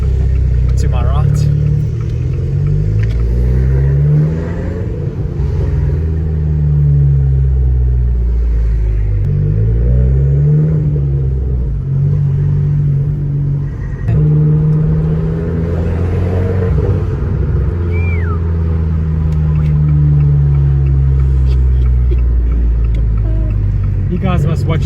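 A turbocharged Audi RS8 engine rumbles steadily up close, with its deep tone rising and falling as it revs, while a voice talks over it.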